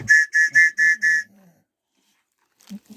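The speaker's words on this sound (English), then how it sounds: "a little whistle, survival whistle." A small survival whistle gives five short, shrill blasts in quick succession, loud and close. A few soft knocks and handling sounds follow after a pause.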